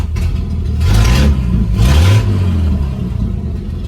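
A Plymouth car engine fitted with a new carburetor runs close and loud, with a steady low rumble swelling twice into short rises in revs before settling back to idle.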